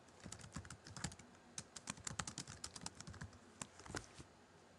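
Rapid, irregular clicking of a computer keyboard as text is typed into a web page, close and fairly quiet, with bursts of keystrokes separated by short pauses and no voices.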